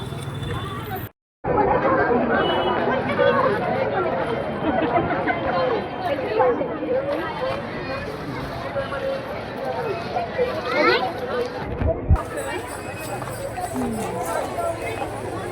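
Dense crowd chatter fills the air at a palkhi procession in Saswad, a steady close babble of many voices with scattered footsteps and movement, broken by a brief dropout near the start.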